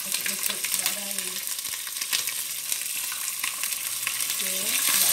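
Fenugreek seeds and a sauteing spice paste sizzle and crackle steadily in hot oil, with scattered pops and brief stirring scrapes throughout, loud and close, with no speech.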